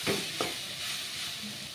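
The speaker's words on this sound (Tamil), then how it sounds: "இப்போ இதை நல்லா நம்ம மிக்ஸ் பண்ணிக்கலாம்" Chapathi noodles stirred in a frying pan, a soft steady sizzle and hiss with a couple of brief scraping stirs near the start.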